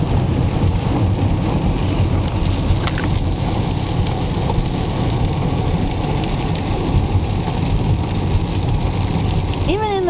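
Steady, dense rain falls on a dreary day along a scenic route, a loud constant wash of drops with low rumbling underneath and no speech.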